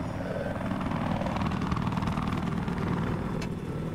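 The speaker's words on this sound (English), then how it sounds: "Jonathan Snow, you must take out the chopper." A helicopter in the video game Battlefield 4 drones steadily and loudly for the whole stretch, its rotor and engine noise forming a dense, unbroken roar with no talk over it.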